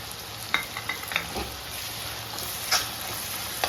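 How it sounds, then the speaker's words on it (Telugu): Onion paste fries with ginger garlic paste in a pan for a South Indian chicken fry gravy, making a steady close sizzle broken by scraping stirs of a spoon. "అల్లం తెల్లపాయ పేస్ట్ కూడా ఫ్రై అయింది"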